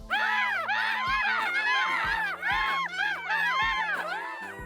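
Cartoon ants from Happy Tree Friends shriek in a dense, continuous chorus of high, wavering screams that swell and dip in loud bursts, with low sustained tones underneath and no talking.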